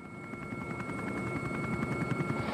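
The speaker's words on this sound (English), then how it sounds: "So our helicopter tracking up above the riders here today, led by Gianni Vermeesch, second in the duo." A TV helicopter hovers above riders at the UCI Gravel World Championships men's elite race, its rotor throbbing in a fast, steady pulsing chop under a continuous loud whine, close and unbroken throughout.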